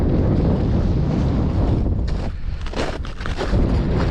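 Strong wind buffets the microphone in loud, rumbling gusts on a frozen river in cold weather, swelling and easing, with no voices heard.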